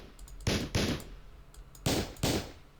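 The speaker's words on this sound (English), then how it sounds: "I had a gunshot sound." Hardstyle sample-pack gunshot effect: four sharp, loud shots in two pairs with hard attacks and brief decaying tails, played alone in a music production session.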